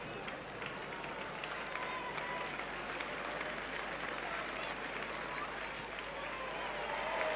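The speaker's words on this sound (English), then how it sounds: "Ripple of applause for Tate." Scattered applause ripples through a rugby league crowd at Leeds versus Workington, a steady broadband patter of many distant hands under loud, continuous commentary-style talk.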